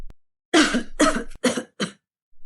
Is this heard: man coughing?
yes